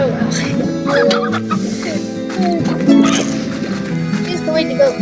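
Chickens clucking in the Slime Rancher video game, a busy run of fowl-like clucks and squawks layered with game music and someone talking over them throughout.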